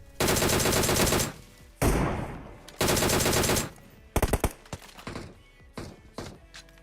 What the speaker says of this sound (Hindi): ये सारे बंदे मेरे पे ही गोली चला रहे हैं